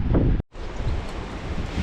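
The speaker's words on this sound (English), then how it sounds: "It's just so windy today." Strong wind on an outdoor walk buffets the microphone with a loud, rough rumble that cuts out for an instant before roaring on.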